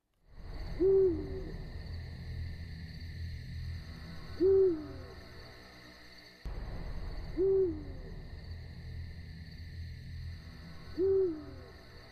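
An owl hoots four times at spaced intervals, each call clear and fairly close, over a steady low background hum and noise with no talking.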